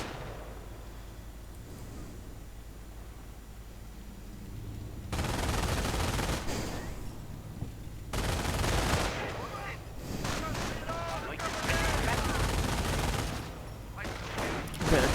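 Machine gun and sniper rifle fire in a WWII strategy video game, with steady background battle noise that turns into dense bursts of automatic gunfire and sharp rifle cracks, loud and continuous, with a commentator speaking at times.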